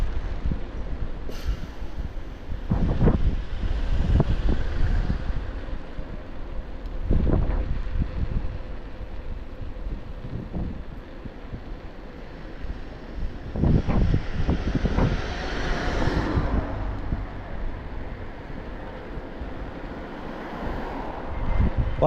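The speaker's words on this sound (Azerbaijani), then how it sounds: "külək də bir yandan pis edir" Strong wind buffets the microphone while riding an e-bike on a spring day, a rough, rumbling roar with repeated heavier gusts throughout.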